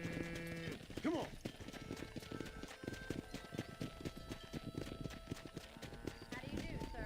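Horse hooves in Red Dead Redemption clip-clop steadily during a cattle-herding ride, a continuous trotting rhythm under game music and talking voices, with a brief whinny near the start.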